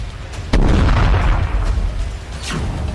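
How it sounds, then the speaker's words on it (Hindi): A heavy boom erupts suddenly and rumbles on, followed by a second distant thud, like artillery fire echoing across open ground in the Russia-Ukraine war. "तोपखानों के आग उगलते गोलों से भारी तबाही हो रही है।"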